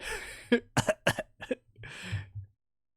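Coughing in the Pool of Radiance game as a dragon is caught in a stinking cloud spell: a series of rough, close coughs and throat-clearing bursts in a loose rhythm, ending in a gravelly rasp.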